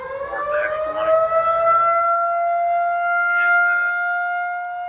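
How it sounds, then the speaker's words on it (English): An outdoor tornado siren winds up and holds a loud, steady rising-and-falling wail for the whole stretch, with faint chatter early on under the tone. "it looks like we got a live tornado siren going here"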